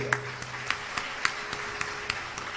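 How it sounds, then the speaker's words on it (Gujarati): An audience at a devotional katha gathering in Kadi, Ahmedabad claps for the decoration volunteers, with sharp handclaps falling in a fairly regular rhythm over a steady background hum. "અમારે ખાસ આ સજાવટ કરનારા બધા જ કાર્યકર્તાઓ માટે ખાસ તાળીઓ વગાડો"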